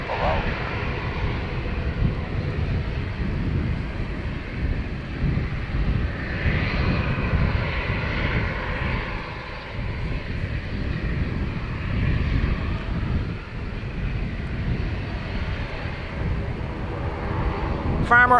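An airliner takes off from runway 10 right at Dublin Airport, a steady, loud, broadband engine roar sustained throughout, with faint radio chatter now and then.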